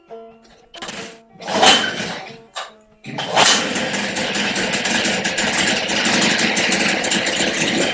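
A rebuilt-carburetor 1973 Evinrude 9.9 hp outboard motor cranks with a few sputtering bursts, then catches and settles into a steady, loud running drone close by.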